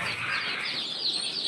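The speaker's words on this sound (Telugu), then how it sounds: "టర్కీ పిల్లలు." Turkey chicks chirp in a dense, continuous chorus of high, overlapping peeps, close by and steady throughout.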